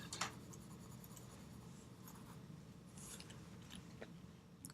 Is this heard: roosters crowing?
no